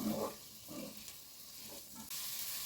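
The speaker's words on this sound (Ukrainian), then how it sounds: "Перемішую і смажу приблизно ще до 5 хвилин на середньому вогні." Soft, continuous sizzling of spinach and vegetables frying in butter in a pan, with a few muffled stirring movements, close and fairly quiet.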